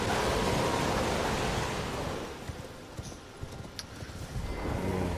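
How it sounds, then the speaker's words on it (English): Horse hoofbeats from riding in the video game Elden Ring, with a rapid clip-clop over a rushing windy wash at first, then scattered distinct thuds as the gallop slows, fairly faint. "Lost my touch with the horse riding."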